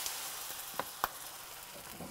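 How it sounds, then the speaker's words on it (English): Bánh xèo batter sizzles in a large nonstick pan, a steady close hiss with two brief sharp clicks partway through. "And it gets that nice sizzle in there."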